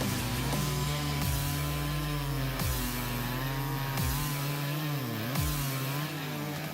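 Competing chainsaws, a Stihl 881 and a Homelite, cut through tree wood, with loud, close engines roaring steadily and bogging and revving in repeated dips as each cut goes through.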